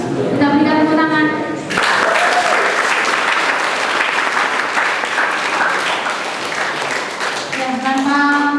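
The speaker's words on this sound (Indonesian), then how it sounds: "Kita berikan tepuk tangan." Sustained crowd applause at an event, a dense burst of clapping lasting about six seconds, loud and close, bracketed by a person speaking before and after.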